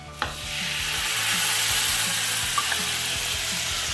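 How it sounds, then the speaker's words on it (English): A hot pan deglazed with birria juice gives a steady, loud sizzle that swells after a sharp initial splash, with faint scraping and stirring beneath, close up and without talk. "Deglaze that pan."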